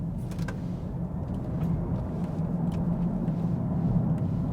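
Interior of a 2024 Mercedes EQE SUV AMG electric vehicle accelerating in sport mode: steady low road and tyre rumble with a faint motor whine, gradually rising in level, no talking.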